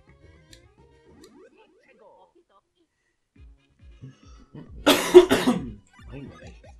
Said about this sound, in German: Scheiß Husten.